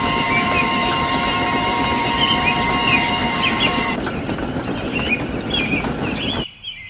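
Steam locomotive in the Trainz railway game rolling along a line, a steady rumbling chug with clattering wheels and high squealing tones above, continuous and fairly loud until it cuts off near the end.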